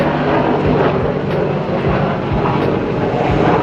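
An Apache military helicopter passes overhead, a loud, continuous rotor and engine roar that fills the clip with thumping low pulses and no talk.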